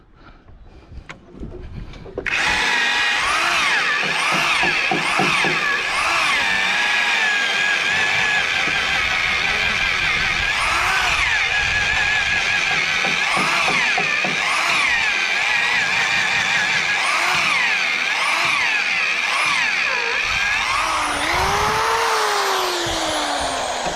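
A power drill bores holes in damp wood on a house roof and ceiling build, running as a loud, steady, close whine for most of the stretch with slight load changes and no speech.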